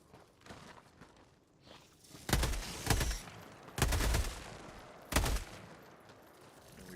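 Bursts of gunfire in a video game, with the player taking fire from an unseen shooter: four loud, sharp volleys over several seconds stand out against a quieter background of movement and ambient game noise.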